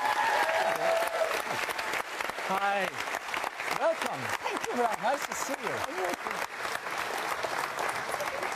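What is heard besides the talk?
studio audience round of applause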